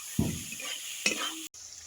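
Spice paste fries with capsicum and tomato in a pan, a steady sizzle marked by two brief scraping stirs, then a sudden cut, with no voices.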